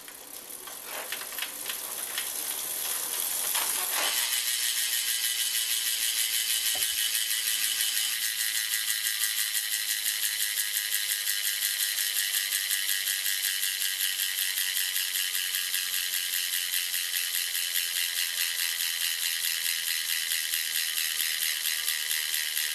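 An unbalanced bicycle wheel without a wheel magnet spins freely, starting with loose rattling clicks that settle into a steady, loud whirring hum that continues evenly to the end.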